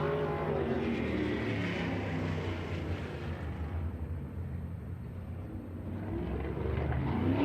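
Race cars roar during qualifying at Lucas Oil Speedway in a High Limit Racing event, a loud continuous engine drone with a broad rumbling wash that swells slightly near the end.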